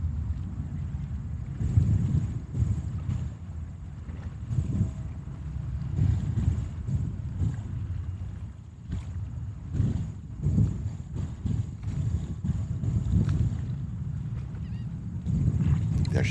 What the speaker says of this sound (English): Can you give me some feedback if you are able to hear the aircraft and the engines?